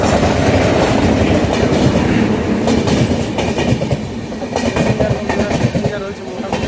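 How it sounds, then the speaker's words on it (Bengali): The Howrah Intercity Superfast Express arrives at a platform, a loud continuous rumble of carriages with clickety-clack wheel beats and a light squeal, the noise easing slightly near the end. "আমার ট্রেন হচ্ছে ঢুকে গেছে, ঠিক আছে। এই দেখো হাওড়া ইন্টারসিটি সুপারফাস্ট এক্সপ্রেস"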